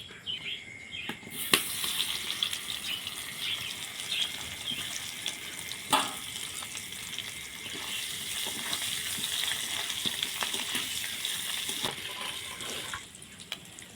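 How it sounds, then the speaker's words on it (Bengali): Boiled potato pieces fry in a pan with turmeric and salt, giving a steady, moderately quiet sizzle with scattered sharp crackles and pops throughout, and no one speaking. "বাকি যে দুটো সিদ্ধ আলু ছিল ওই দুটো ভেজে নিব"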